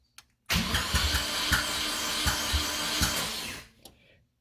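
A forged 1.9L Miata engine cranks over on the starter for about three seconds without firing, a loud rhythmic churning that stops abruptly, followed by a brief faint clatter.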